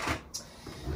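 A makeup drawer sliding open with a short scrape and soft knock, close and fairly quiet, in an indoor room with no talking.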